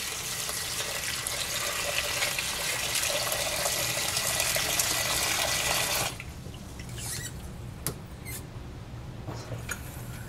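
Cold water runs from a tap into a bucket at a sink, a loud steady gushing rush for about six seconds. The flow then stops, leaving a quieter room with a few small knocks and drips.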